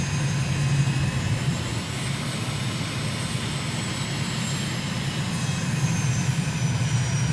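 Continuous jet-style aircraft engine roar during a landing approach in Microsoft Flight Simulator, with gear and flaps down, loud and steady with a faint high whine over a broad rumble, alone without talk.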